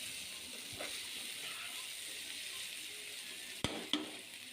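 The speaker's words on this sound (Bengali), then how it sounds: "একটু ভাজা ভাজা করলাম, ফুলকপিটা এরকম ভাজা ভাজা করলে আমার কাছে খাইতে অনেক ভালো লাগে" Cauliflower fries in a pan for a home lunch curry, a steady soft sizzle with a few sharp clicks of a utensil against the pan near the end, quiet and close.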